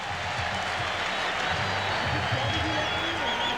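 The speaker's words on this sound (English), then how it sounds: "That's why they're applauding." A stadium crowd applauds at the 1992 MLB All-Star Game in San Diego, broad sustained cheering and clapping with a commentator talking over it.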